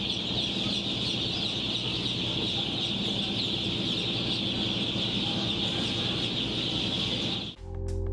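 Roosters carried as livestock aboard a Philippine ferry cluck and call steadily at close range over a constant engine-like drone, continuing without pause until an abrupt cut near the end.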